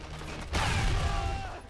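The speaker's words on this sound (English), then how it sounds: "Damn, the explosion is huge." A grenade explosion in the video game Sniper Elite V2 lands as a sudden loud blast partway through, then rolls into a long, dense rumble and crackling debris that fills the rest of the moment, heard alone without talk.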